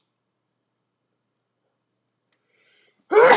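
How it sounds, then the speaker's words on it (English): A single person's sneeze bursts out abruptly near the end of otherwise near-silent room air, short and loud. "I gotta sneeze."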